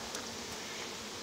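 Honey bees buzz in a dense, continuous drone around a hive being split into two boxes, steady and fairly close with no voices.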